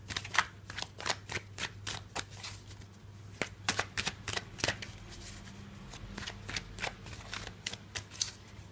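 Tarot cards being shuffled by hand in a quiet room, a steady run of crisp riffling snaps and soft slaps over a low hum, close and fairly faint.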